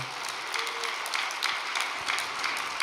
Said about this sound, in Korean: 여러분께서 따뜻한 박수 한번 보내주시기 바랍니다